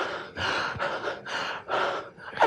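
A voice imitates the gasping, broken breathing of a dying person, four or five drawn-out raspy gasps in a slow, uneven rhythm, close and fairly loud.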